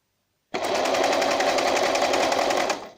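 A Łucznik 834 sewing machine stitches a button on, starting abruptly into a loud, rapid mechanical chatter that runs steadily for about two seconds before winding down, close and without speech.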